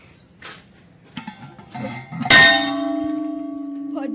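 A metal temple bell at a Kshemkari Mata shrine is struck once with a loud clang, then rings on in a long sustained hum, after soft rustling and faint voices beforehand.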